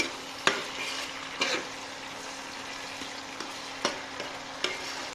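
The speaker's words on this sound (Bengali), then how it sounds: "তো এটা এখন নাড়াইতে হবে কিছুক্ষণ" Chopped garlic and onion fry quietly in a pan under a low, even sizzle, with a spoon stirring in occasional sharp scrapes and taps.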